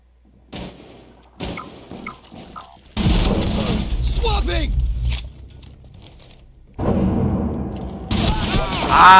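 Gunfire in a Rainbow Six Siege match, with sharp bursts of shots in the middle and near the end between quieter stretches, while players talk over the action.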